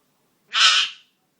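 One piercing screech from a pet talking parrot, close and loud, about half a second long, alone against a quiet indoor background.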